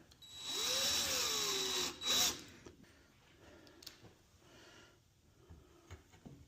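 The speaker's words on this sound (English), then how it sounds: "we've got to turn around and drill from the other side" A power drill whirs steadily for about two seconds, winding up and down as it drives screws into wood while assembling an Adirondack chair, followed by a brief second burst and quiet workshop clatter.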